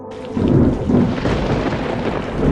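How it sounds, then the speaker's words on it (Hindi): Heavy village downpour roars with rolling thunder, a deep sustained rumble swelling in and then building again toward the end, loud and close, with no voices. "तभी अचानक से एक दिन गांव में मूसलाधार बारिश होने लगती है।"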